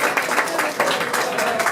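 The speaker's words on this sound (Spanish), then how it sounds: "por favor les pido otro enorme aplauso para recibirla" A brief burst of audience applause at a book presentation welcoming Cristina Rosenflinge; moderately loud, uneven clapping from a small crowd over less than two seconds.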